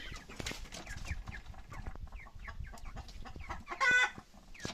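Wyandotte chickens cluck steadily in a coop, several birds overlapping in short repeated calls at close range, with one louder squawk near the end.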